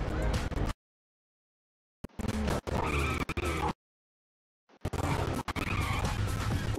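A car in the video game Gangstar New Orleans skids with loud screeching tire noise in three long bursts, separated by stretches of dead silence.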